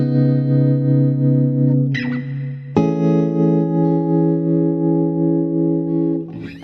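Electric guitar chords ringing out, heavily washed in reverb and compression, sustained and loud, with a couple of chord changes and no voices.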